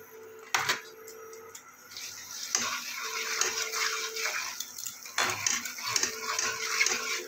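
Turmeric and Kashmiri chili powder go into hot oil and get stirred, bringing soft sizzling with clinks and scrapes of a utensil against the pan in bursts.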